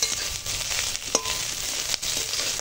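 Chopped vegetables with ginger-garlic paste, plus bitter gourd and lentil dumplings (bori) for a Bengali chorchori, fry and hiss steadily in a hot pan, with a few sharp spoon scrapes and stirs close by.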